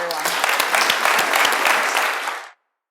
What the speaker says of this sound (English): huge round of applause for Tony Hsieh